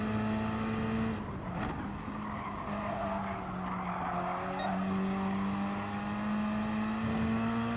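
Gr4 race cars circle Brands Hatch in Gran Turismo Sport, engines droning steadily with rising and falling pitch as cars pass, accompanied by tire squeal and skidding throughout, loud and continuous.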